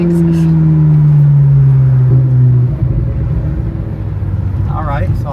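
A Ferrari fitted with a Valvetronic exhaust accelerates hard toward redline, the engine note climbing loud and close for about three seconds before shifting into a lower, steady rumble.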